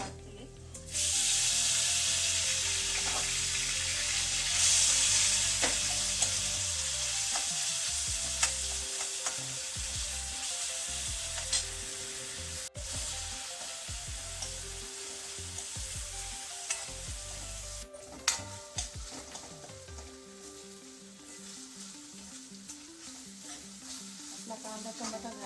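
Chopped tomato hits hot oil with cooked onion and fries with a loud, steady sizzle, joined by repeated scraping stirs in the pan, with occasional brief speech nearby.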